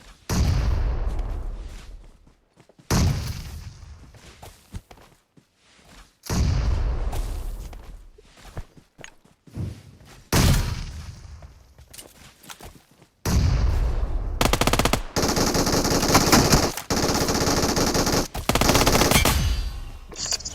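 Gunfire and a grenade in the BGMI mobile battle game come as loud, close bursts of automatic fire and heavy booms, separated by short silences, with a dense sustained burst near the end.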